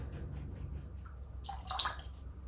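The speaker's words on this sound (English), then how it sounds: "I'm going to rinse this brush out" A paintbrush rinsed in a water cup during an acrylic painting session: soft, close swishing and sloshing that builds into a brief louder splash near the end, with no voices.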